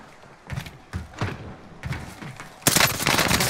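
Battle royale gunfire crackles in rapid bursts, sharp shots and thuds cluster across the clip before a dense, loud volley of fire takes over at the end.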